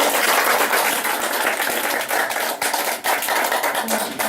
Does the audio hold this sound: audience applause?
yes